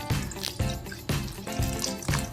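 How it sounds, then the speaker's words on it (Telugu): Half a glass of water poured into a pan of jaggery for a sweet coconut rice dish, a close, steady splashing pour with a few pulsing gushes and no talk. "దీంట్లో ఒక అర గ్లాస్ నీళ్ళు వేసుకుని"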